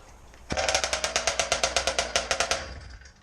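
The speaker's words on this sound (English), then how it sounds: "going to start this bike up" A motorized bicycle engine fires up after a sharp pull and runs in a fast, loud, evenly spaced string of pops for a couple of seconds, then fades out.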